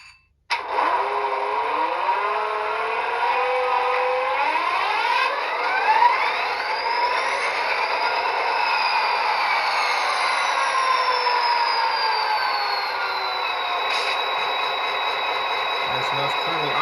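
A model diesel locomotive, an Athearn DRGW SD40T-2, starting up: rising electronic motor whine and layered tones sweeping upward, settling into a steady idling hum, continuous and fairly loud.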